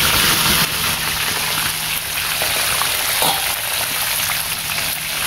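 Steady, dense crackling sizzle of fish frying in hot oil, continuous and fairly loud with no voices.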